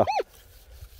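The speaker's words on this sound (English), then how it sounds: "I'm sorry about that dog over the road there too." A dog across the road gives a single sharp bark, loud and at the very start, followed by quiet outdoor ambience while someone talks.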